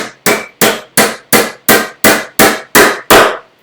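Nine sharp, evenly spaced hammer blows drive a nail into pine wood during a bookcase build, each strike loud and close with a short ringing decay, the rhythm steady and unaccompanied by speech.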